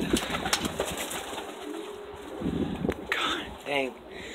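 A pigeon-like bird on a homestead gives throaty coos and rolling calls close by. They come in short bursts, mixed with rustling and a voice speaking.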